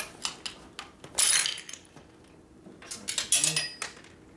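A metal washer drops out during a Harley-Davidson Sportster service, giving a few sharp, close metallic clinks and rattles amid quieter clicks of tools and handling.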